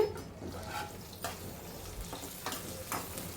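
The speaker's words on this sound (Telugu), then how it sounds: "మనం మిరపకాయలు అయితే వేపుకోవాలి ఫస్ట్ కొంచెం ఆయిల్ వేసేసి వేపుకోండి" Green chillies fry in a little oil until golden for a ridge gourd chutney. A soft, steady sizzle carries a few faint stirring scrapes and clicks, heard alone and fairly quiet.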